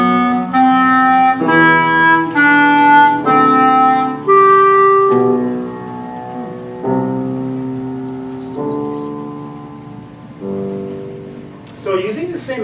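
A melody of sustained tonal notes, played at a 4-to-1 rate against a slower 2-to-1 line, a stepwise sequence of clear pitched notes, loud and close, with a brief noisy sound at the end.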